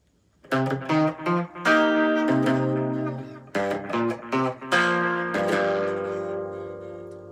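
Clean electric guitar without distortion strumming sustained minor seventh chords from a song, each chord ringing and decaying in turn, alone and up close with no talking.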